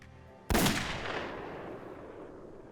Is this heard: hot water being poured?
no